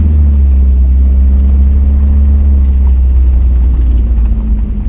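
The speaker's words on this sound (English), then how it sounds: "I think I'm gonna just try to get in the third gear early, because that's where all the torque's gonna be on the clutch" A car with a CFX01 clutch pulls hard in third gear during a clutch-slip test, its engine a loud, steady low drone and rumble heard from inside the cabin, with no voices.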